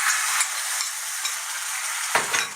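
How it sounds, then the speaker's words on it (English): Matzah coated in egg sizzles in a frying pan for matzah brei, a steady close crackle of frying with light scraping and stirring clicks and a brief louder scrape near the end, no voices. "I'm going to take this and I'm going to put it into the frying pan"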